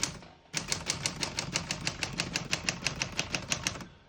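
Rapid, steady keystrokes on a 1936 Corona Standard portable typewriter set to single spacing, crisp close clacks about five per second after a brief pause, each strike sharp and even with a faint mechanical rattle beneath.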